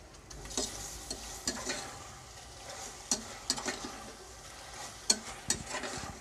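Pork humba stirred in a pan, with scattered sharp clinks and scrapes of a utensil against the pan over a soft, steady simmering hiss; no one speaks.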